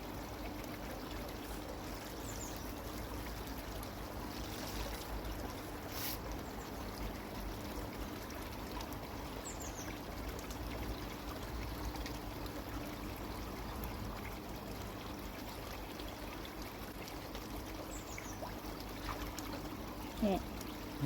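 Koi grow-on pond with its pumps running, giving a constant low trickling and flowing water sound that stays steady and even throughout, with no clear voices.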